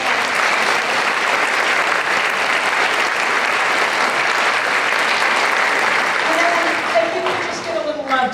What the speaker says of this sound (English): let's give our brass section first a big round of applause.